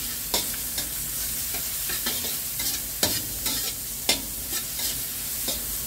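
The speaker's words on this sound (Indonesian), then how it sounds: "Mari kita goreng sampai harum." Chicken wings and long beans frying in a pan with black soy sauce, steady sizzling punctuated by irregular scraping and clattering of a utensil stirring the food.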